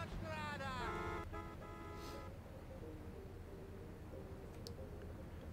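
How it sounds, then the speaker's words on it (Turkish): Car horn honking inside the video game GTA 3, a sustained harmonic toot in the first second or so, loud and close, followed by game ambience with engine rumble and voices under it. "Kornayı mı çalayım?"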